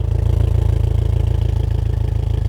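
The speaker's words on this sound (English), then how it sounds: "It has that nice Subaru rumble." Deep, throbbing exhaust idle of a modified 2023 Subaru WRX close up, pulsing in an even rhythm with a steady rumble and no voices.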